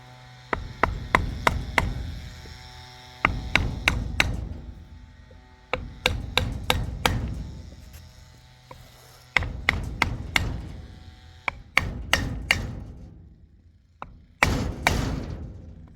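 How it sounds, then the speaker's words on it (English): Repeated sharp hammer blows on a wooden block tapping a seal into place, struck in quick bursts of four to six hits separated by short pauses, close and loud. "what we're going to do is use a block of wood and a hammer"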